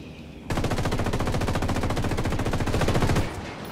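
Sustained automatic gunfire in the video game Ghost Recon: a loud, rapid burst of evenly spaced shots that starts abruptly, rattles for nearly three seconds, then cuts off.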